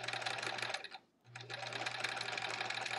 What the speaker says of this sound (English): when I sew these half square triangles together for the first part of these rows